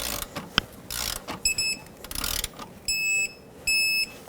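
A torque wrench tightens the sway bar link nut on a 2015-2020 GMC Yukon, giving a few sharp ratcheting clicks and mechanical clatter, then short bright electronic beeps.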